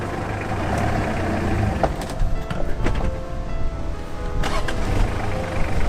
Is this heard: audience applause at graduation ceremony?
no